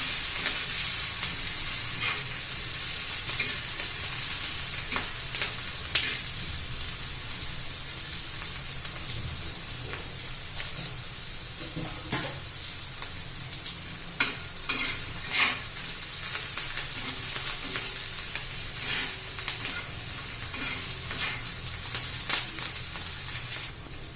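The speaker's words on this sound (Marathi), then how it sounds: "तेलमध्ये मिरचीचा कच्चेपणा जाईपर्यंत आपण परतून घ्यायचं" Green chillies sizzle steadily in hot oil as they are sautéed and stirred, a continuous bright frying hiss with occasional crackles and utensil scrapes, close and fairly loud throughout with no talking.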